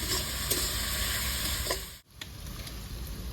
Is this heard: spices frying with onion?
yes